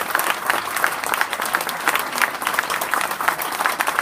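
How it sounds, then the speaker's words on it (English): A crowd at a North Carolina governor's speech breaks into steady, sustained applause, dense clapping filling the whole stretch at close range with no talking over it. "Ladies and gentlemen, please give Gene a round of applause."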